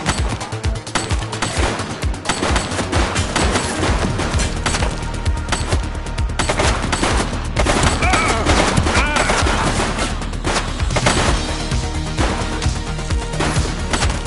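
Rapid gunfire bursts and machine-gun volleys in the police game The Precinct, loud and dense across the whole stretch, with crashing impacts mixed in and no pauses.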